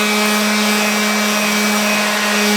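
Power sander working the plastic body panels of a John Deere Gator, a steady loud whine with a strong constant hum running alone for the whole stretch, no pauses.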